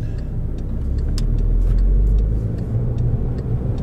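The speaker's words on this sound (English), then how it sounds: "the exhaust on the Mark IV Jetta is not too crazy in terms of sound" A steady, deep exhaust rumble from a Mark IV Volkswagen Jetta GLI idling and gently revving, close and fairly loud, no voices.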